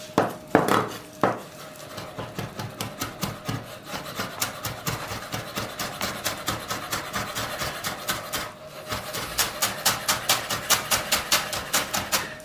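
A knife chops salad leaves finely on a wooden board for a mushroom salad, fast rhythmic taps in long even runs after a few heavier opening strokes, close and alone.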